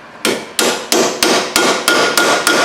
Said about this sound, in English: You just tap it in very little, just to get the splines to grab.